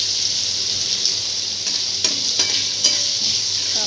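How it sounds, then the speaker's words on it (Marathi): Chopped onion sizzles and fries in a pan as it is sautéed until golden, a steady close hiss with occasional soft stirring scrapes and no talking. "त्याला चांगला गोल्डन कलर येईपर्यंत आपण कांदा परतणार आहोत"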